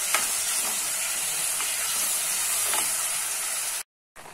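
Chopped tomatoes cook in a pan with gongura leaves, a loud steady frying sizzle and hiss with faint stirring taps, close and continuous before cutting out abruptly near the end.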